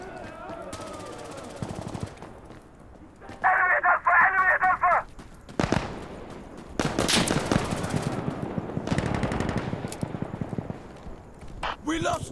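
Hip-fired gunfire in Insurgency Sandstorm, with rapid automatic bursts and loud cracking shots coming in clusters over several seconds, mixed with other game sounds and a voice talking.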